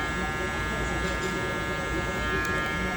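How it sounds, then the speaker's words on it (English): Zero-gapped electric hair clippers buzz steadily up close during a low fade haircut, a constant motor hum with a faint rattle. "I do have these clippers right here, zero gapped"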